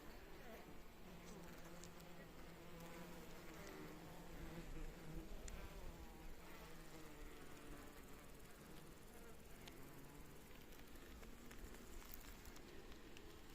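Honey bees hum faintly and steadily at an open hive while foragers bring in pollen, a soft continuous drone with no clear voices over it.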